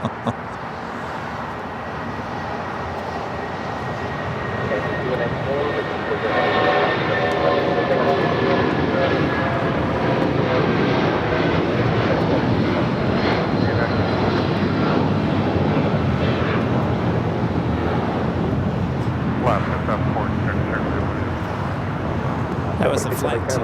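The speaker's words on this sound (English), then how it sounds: "That was a flight to Newark." A passenger airplane bound for Newark at LAX airport builds into a loud, sustained jet roar that holds steady for most of the stretch, heard outdoors from a moderate distance.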